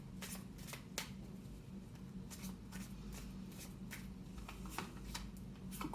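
Tarot cards are shuffled and drawn close by, a soft papery riffle with repeated sharp flicks and snaps scattered through the passage at low volume.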